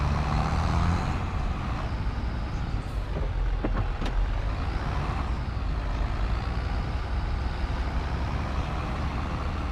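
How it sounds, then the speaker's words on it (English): A farm tractor towing a baler into a barn in Farming Simulator 25 on a UK farm, its engine a steady, loud broadband drone throughout with a few brief clanks and hisses, no talking. "stick the baler in the barn."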